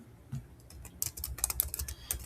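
Close, quick typing on a computer keyboard, with a few taps at first and then a denser run of clicking keystrokes, and no talking.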